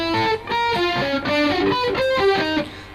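Distorted electric guitar in a sweep-picking lesson, ringing out a sequence of single picked notes one after another. Each note is loud and sustained with a gritty, overdriven tone, and no voice accompanies it.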